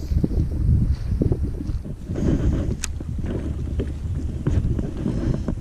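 Wind gusts over the water during a fall redfish trip from a small boat, with a steady, loud roar and rumbling buffeting against the microphone throughout.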